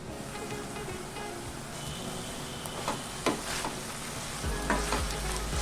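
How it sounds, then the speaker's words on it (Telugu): Amaranth leaves fry in oil in a covered pan, giving a steady close sizzle with scattered crackles and a few louder bursts toward the end, with no voices. "మిక్స్ చేసుకున్న తర్వాత దీని మీద మూత పెట్టేసి 2 నిమిషాలు అలాగే వేగనివ్వాలి."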